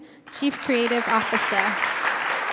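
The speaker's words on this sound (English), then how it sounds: "let's have a round of applause for Cecil Kim" An audience at a studio talk event applauds for a speaker, a continuous patter of clapping, while someone talks briefly over it near the start.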